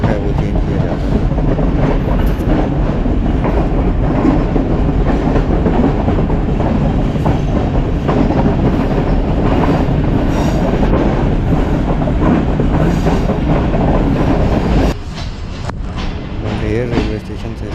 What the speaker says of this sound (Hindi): रेलवे स्टेशन से ट्रेन क्रॉस हो रही है।